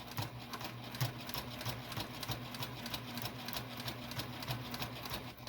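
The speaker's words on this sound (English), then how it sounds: "we're sewing on the brim today" A sewing machine stitches the brim of a fedora hat, running steadily with a fast, even mechanical chatter at a fairly low level, with no talking.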